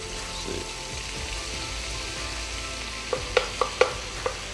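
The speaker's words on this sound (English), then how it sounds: "I'm going to be blooming the turmeric" Turmeric powder blooms in hot oil for a chicken stew, a steady close sizzle and hiss with several sharp metallic taps of a spoon against the pan toward the end.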